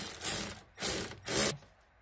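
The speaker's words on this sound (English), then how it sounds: "Then just get the nut started and tighten it down." Ratcheting wrench clicks in three quick bursts while a nut is tightened onto a polyurethane rear sway bar bushing on a Subaru Justy, close and crisp with short pauses between strokes.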